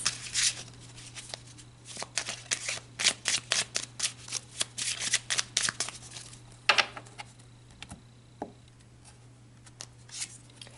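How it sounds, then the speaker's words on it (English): Tarot cards are shuffled and pulled by hand at close range, giving quiet bursts of riffling and crisp slaps in an irregular rhythm with brief pauses between, over a faint steady hum and no talk. "All right, let's pull some more cards."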